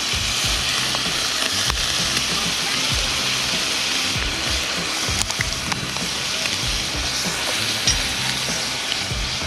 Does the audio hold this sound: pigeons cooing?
no